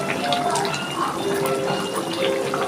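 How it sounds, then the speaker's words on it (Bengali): Koftas made from green banana drop into a pot of boiling curry gravy, giving a steady bubbling, watery simmer with soft splashes, close and fairly loud throughout. "আমার ঝোলটা ফুটে গেছে, আমি এবার কোপ্তাগুলো এর মধ্যে দিয়ে দিচ্ছি"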